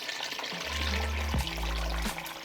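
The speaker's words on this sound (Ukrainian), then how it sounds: "Заливаю водою приблизно десь літрів 3 води." About three litres of water poured over chicken and turkey pieces for a Carpathian roast, a steady gushing pour with a deep, full rumble that briefly shifts partway through, close and alone.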